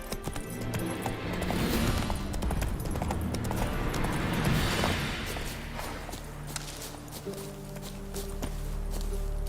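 Hoofbeats of Roach, a horse in The Witcher 3: Wild Hunt, gallop steadily under layered game music and ambience, a continuous rapid clip-clop rhythm that stays fairly loud throughout.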